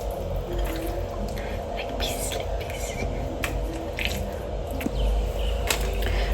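Chicken biryani marinade being mixed by hand, with wet squishing and dripping noises at close range under a steady background hum and faint whispery sounds.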